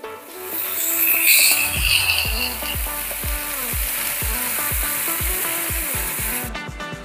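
Fish sizzling loudly in a frying pan as it is turned, a steady close hiss of hot oil running throughout. Rhythmic low knocks and scrapes from the pan or utensil sound under the frying, with no talking.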